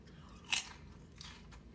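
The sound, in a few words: biting a crunchy homemade baked potato chip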